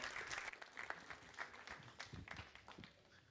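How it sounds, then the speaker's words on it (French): A church congregation applauds to welcome a speaker, scattered claps of moderate density coming and going, heard faint and distant in a reverberant hall. "Jérémie, on peut l'applaudir, on peut lui souhaiter la bienvenue"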